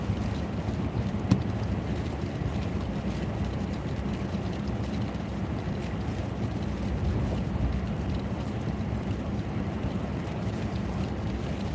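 Constant roaring blizzard wind on the Jersey Shore buffets the microphone, a dense rumbling rush that stays loud and unbroken throughout, with no voices.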